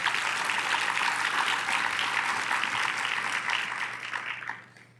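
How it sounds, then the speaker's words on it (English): A luncheon audience at the 2023 Leadership Memphis awards gives a round of applause, a steady, full clatter of many hands that carries on evenly, then fades out near the end. "Let's give them a round of applause."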